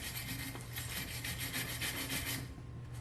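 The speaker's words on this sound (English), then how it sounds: "Clean it up. Wire brush, that's it. Take that wire brush." A wire brush scrubs hard and fast across an oil cooler adaptor gasket surface on a 4.6L engine, giving a close, continuous scratchy rasp with a steady back-and-forth rhythm.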